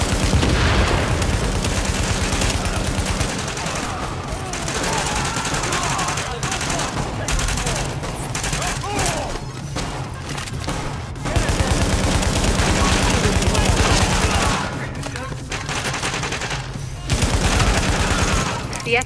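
Heavy, sustained gunfire from a rooftop gunner in Tom Clancy's The Division video game, with loud continuous automatic bursts and booms across the whole stretch, a few brief pauses between volleys, and a voice talking underneath.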